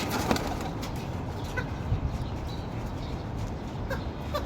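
Pigeons, some of them sick, perch on a rooftop, giving faint scattered coos and calls over a steady wash of outdoor background noise.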